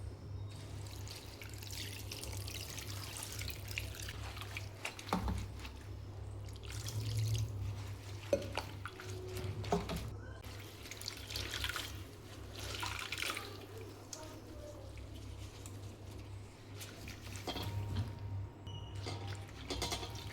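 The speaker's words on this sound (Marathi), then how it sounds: "माती आहे भाजीला, पावसाळा आहे त्यासाठी धुवून घ्यायची भाजी." Muddy sweet potato leaves are washed in water during the rainy season: steady running and trickling water with drips and occasional handling knocks, close and moderately faint, with no talk.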